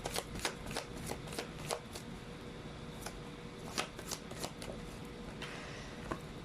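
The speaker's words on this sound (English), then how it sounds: "We're still going to be pulling up a lot of cards here." Tarot cards shuffled by hand in a quiet room, a series of crisp riffling snaps and flicks at an uneven rhythm, close and fairly soft with no talking.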